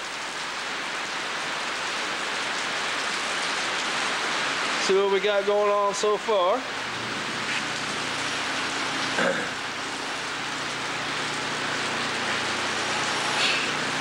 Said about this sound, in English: Oh, there's rain.